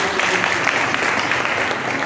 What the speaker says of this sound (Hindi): बेटा ना आपके लिए ताली बजा रहा